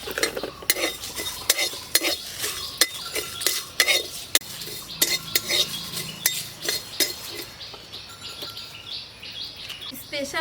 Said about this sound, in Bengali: এই সব উপকরণগুলো দিয়ে একটি স্পেশাল মশলা বানিয়ে নিচ্ছি। এবার একসঙ্গে ভেজে নেব।